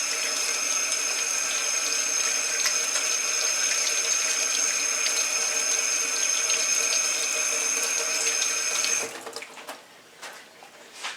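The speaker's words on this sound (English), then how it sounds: "Let me rinse some of this stuff off my hands." Running tap water pours steadily into a kitchen sink as hands are rinsed of frying batter, a continuous close hiss that stops abruptly near the end, leaving a few faint drips and clatters.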